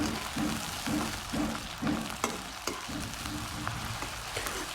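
Chopped onions frying over medium heat in a pan for an eel curry with curry leaves, a steady close sizzle with periodic soft stirring scrapes and a few sharper clicks, no voices.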